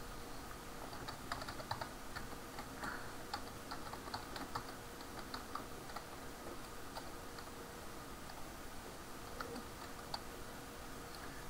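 Someone types on a computer keyboard at a Linux Ubuntu terminal. Soft, quiet keystrokes tick along steadily and unevenly for the whole stretch, with no talking.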